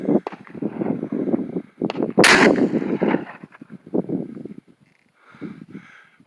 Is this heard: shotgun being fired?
yes